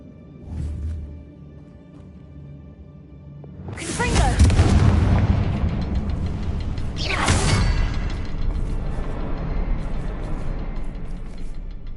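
A Confringo blast spell cast in the video game Hogwarts Legacy: a deep booming explosion with a whooshing rush, followed by a second impact and a lingering rumble beneath game music and ambience.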